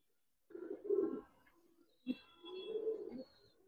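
Silver Pangkhi pigeons coo close by in two soft, throaty phrases separated by a short pause, with no other sounds around them.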